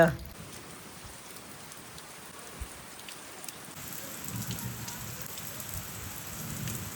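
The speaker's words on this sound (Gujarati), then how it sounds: "ફૂલ વરસાદ ચાલુ થઈ ગયો" Steady heavy rain pours throughout, a dense broadband hiss that grows a little louder partway through, with a faint low rumble beneath.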